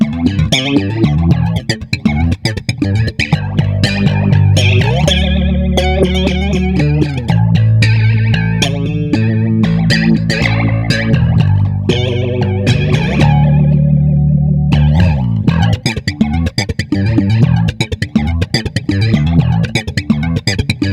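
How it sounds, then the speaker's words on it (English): Bass guitar runs through a Soundblox 2 Orbital Modulator pedal with Hot Hand-controlled modulation, giving a loud, continuous riff of distorted, warbling notes that sweep and wobble throughout, with no talking. "When you plug the hot hand into the Orbital Modulator, it's defaulted to control the modulation of every effect."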